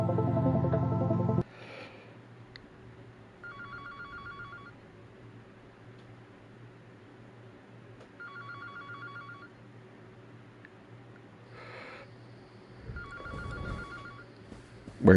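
A telephone rings in the horror comedy video game Anthology of The Killer, three separate bursts of trilling electronic rings spaced apart, heard clearly over a low, dark ambient hum with a few muffled thumps.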